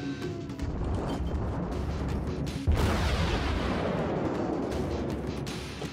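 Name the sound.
warship guns firing HE shells in World of Warships video game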